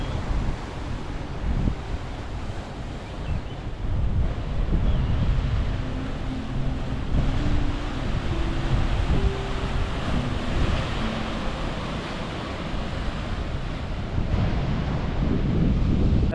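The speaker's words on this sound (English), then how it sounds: "Good waves, but not so, you know, not so tall. There's small waves because it's not the season." Ocean waves surge and break continuously on Mughsail beach in Oman, a steady roar of surf close by with heavy wind buffeting the microphone throughout and no voices.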